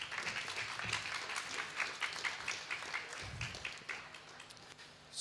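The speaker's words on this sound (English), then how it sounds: "Please join me in giving a round of applause to Wanjira." Audience applause for a speaker at a conference session on innovation and digitalisation, with clear individual claps that stay moderately loud, briefly swell, then thin out as it ends.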